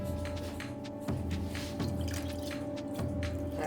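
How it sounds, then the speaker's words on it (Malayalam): Water poured into a pot of cooking wheat soup (kanji made with broken wheat), heard as a steady liquid trickle with small dripping splashes and a few soft bumps, close and moderately loud, with no talking. "നമുക്കിനി കുറച്ചുകൂടി വെള്ളം ചേർത്ത് കൊടുക്കാം."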